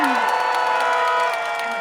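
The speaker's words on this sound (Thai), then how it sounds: "ขอเสียงกองเชียร์เพื่อไทยดัง ๆ" An election-rally crowd in Thailand cheers loudly for the Pheu Thai party, a dense, continuous roar of voices and applause with steady tonal sound running beneath it.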